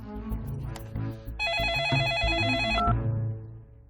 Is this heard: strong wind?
no